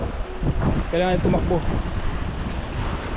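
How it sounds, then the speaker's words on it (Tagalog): A strong current of rushing water roars outdoors, a low, continuous rumble heavily mixed with wind buffeting the microphone, while a voice briefly calls out around the middle. "medyo lumalakas na po yung hagos ng tubig"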